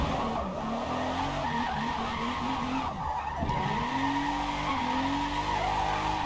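Drifting car in Forza Motorsport, tires squealing continuously over a revving engine whose pitch sweeps up and down through gear changes, loud and close with no talking.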